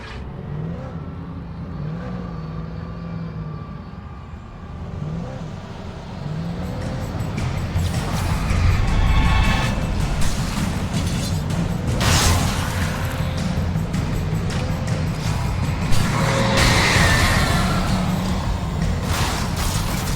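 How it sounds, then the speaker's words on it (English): A car in the video game Alan Wake drives off, its engine droning and swelling louder as it revs and accelerates, with rushing road noise and a few sharp thuds near the end. "Finally a car."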